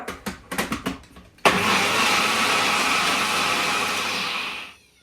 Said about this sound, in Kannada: ಮತ್ತೆ ಗ್ರೈಂಡ್ ಮಾಡ್ಕೊಳ್ಳೋಣ.